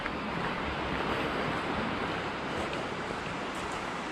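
A river runs right beside a campsite at Sacandaga Campground in the Adirondacks, New York, giving a steady, close broadband rush of moving water with no talk.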